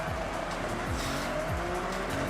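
A car racing in Forza Horizon, its engine droning steadily and loudly with repeated tire squeals and skids as it slides through corners.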